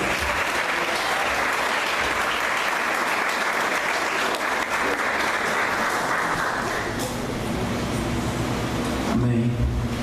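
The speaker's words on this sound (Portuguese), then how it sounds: "Vamos aplaudir o nome de Deus?" A church congregation applauds steadily during a worship service, the dense, even clapping sustained for about seven seconds before it thins out and gives way to voices and a low hum.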